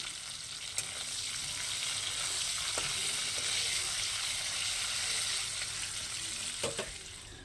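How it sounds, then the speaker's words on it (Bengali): Cauliflower seasoned with salt and turmeric frying in oil, a steady bright sizzle with a few light clicks of stirring, close and continuous with no talking. "ফুলকপিগুলো ভেজে তুলে রাখবো।"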